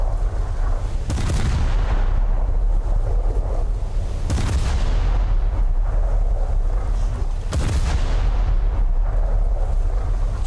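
Heavy naval gunfire in War Thunder, three loud booming shots spaced several seconds apart over a constant roar of wind and ship engine noise, each blast followed by a fading rumble.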